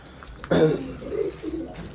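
Pigeons cooing close by, with one strong throaty coo followed by softer low murmuring calls over a quiet background.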